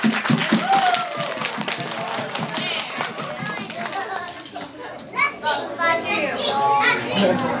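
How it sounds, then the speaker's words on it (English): Clapping from an audience after a children's Easter puppet show, brisk and scattered at first and then fading, with excited children's voices and chatter close by throughout. "Let's give them a round of applause."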